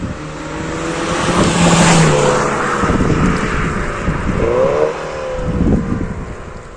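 A Mini John Cooper Works F56 with a Stage 1 tune drives past loudly, its engine note swelling and fading as it goes by, with sharp exhaust pops and crackles in the passing roar.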